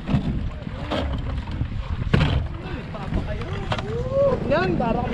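Boat moving on water near Patungan Beach with wind buffeting the microphone, wave splashes and engine rumble, while people talk and shout over it.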